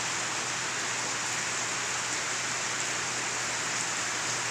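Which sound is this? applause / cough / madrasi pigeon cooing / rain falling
rain falling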